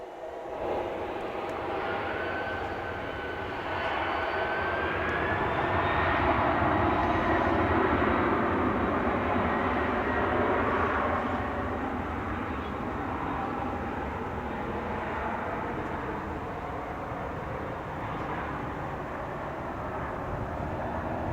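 A jet airliner taking off at DFW International Airport on a cold winter night, its engines roaring loud and steady with a rising whine, swelling then slowly receding into a long distant rumble.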